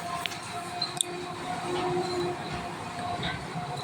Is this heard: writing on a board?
no